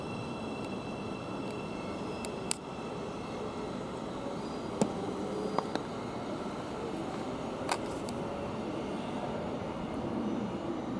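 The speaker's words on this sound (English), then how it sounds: "Thameslink is just now leaving" A Thameslink train pulls away from Luton Airport Parkway station as a steady, even rumble, with a few sharp clicks and knocks scattered through it; no voices.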